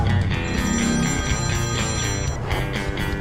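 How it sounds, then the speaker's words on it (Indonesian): An office telephone rings with an incoming call, a loud, steady, repeating electronic ring that fills the clip on its own with no one talking. "Eta aya telepon asup."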